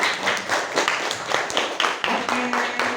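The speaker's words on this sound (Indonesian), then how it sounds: "sekarang kasih applause buat kalian sendiri" Students in a classroom clap for their own presentation groups, a scattered, uneven patter of hands at moderate distance, with a few voices mixed in underneath.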